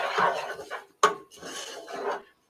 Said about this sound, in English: I'm actually gonna kind of stir this around so it starts to toast